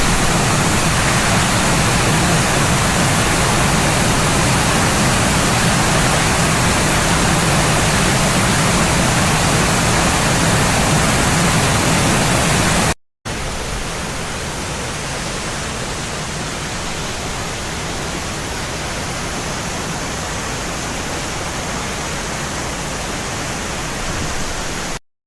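A waterfall below Guangmingding mountain, near a stone sluice house, roars as steady broadband rushing water throughout, loud and close, with a brief cut midway before the continuous torrent resumes slightly quieter.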